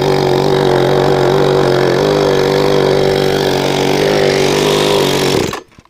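A chainsaw engine drives a homemade mini scooter, running as a loud, steady buzzing drone close by for several seconds before it cuts off abruptly near the end.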